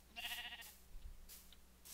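Sheep bleating in a video game, two short faint bleats close together, with a quieter bleat-like sound trailing after, alone without talk.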